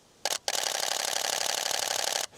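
A Canon 1DX DSLR's mirror slaps and mechanical shutter fires at 12 frames per second: one short burst, a brief pause, then a loud, rapid, machine-gun-like rattle of clicks lasting about two seconds, close up and alone.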